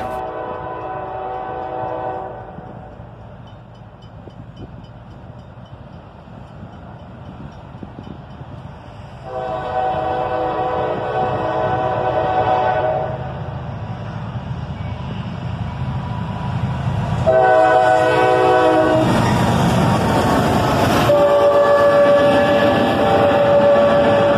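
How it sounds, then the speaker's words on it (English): A BNSF freight train pulled by an ES40DC and an old SD32 diesel locomotive rumbles through a crossing as its horn sounds several long, loud blasts and one short one, growing nearer and louder. "An ES40DC and an old SD32 pull this train through the crossing."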